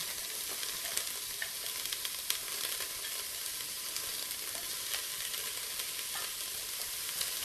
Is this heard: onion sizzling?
yes